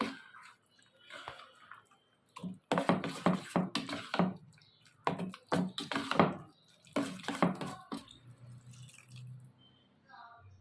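Water is poured into semiya dosa batter with buttermilk or curd and stirred in, giving bursts of wet splashing, squishing and sloshing in a quiet kitchen, separated by short pauses.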